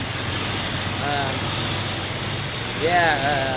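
A nitro RC truck engine idles steadily, a continuous smooth buzzing hum with faint whistling sweeps rising near the end.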